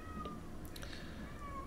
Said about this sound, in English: That's my cat. I hope you guys can hear that